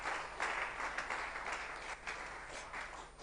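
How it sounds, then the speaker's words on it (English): An audience at Ghana Digital & Innovation Week giving a round of applause for a project lead, fairly faint clapping in uneven bursts that rises and dips across the short stretch. "Let's give him a round of applause."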